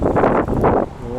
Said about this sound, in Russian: Просто чумовой ветер, такого не было у нас в Барнауле.